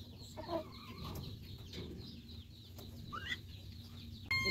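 Chickens at an ostrich poultry farm cluck softly in short scattered calls, faint and moderately distant over low background noise.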